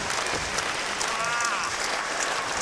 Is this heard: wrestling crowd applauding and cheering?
yes